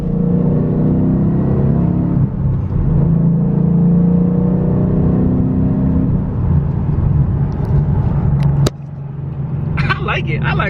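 A 2013 Mustang GT fitted with a FlowMaster 44 Series exhaust drones and rumbles loudly from inside the cabin, swelling and easing with throttle, with a brief sharp click near the end followed by a lighter hum.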